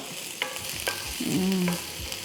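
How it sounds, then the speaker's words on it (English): Onions frying in a pan for a prawn and mussel curry, with a spoon stirring through them in a few scraping strokes over a steady soft sizzle, close by and with no talking. "Starting to smell the beautiful aroma of fried onion"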